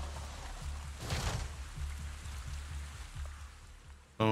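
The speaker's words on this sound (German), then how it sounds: "Es regnet." Steady rain hiss with a soft patter in the video game Avatar: Frontiers of Pandora, constant and fairly close, under a low repeating hum; a short burst of sound cuts in at the very end.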